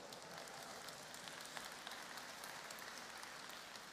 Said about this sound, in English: give Rick a round of applause.